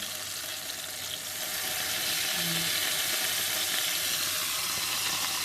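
Vegetables stir-frying in a hot pan give a steady, loud sizzle with faint stirring, close up and alone.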